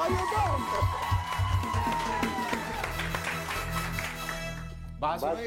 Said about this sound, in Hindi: एजाज असलम के लिए बहुत सारी तालियां